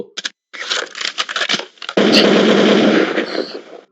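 Gunfire in a meme about Einstein with a gun: a few sharp isolated shots, then a rapid crackling burst of automatic fire that turns into a sustained, loud roar, with no talking.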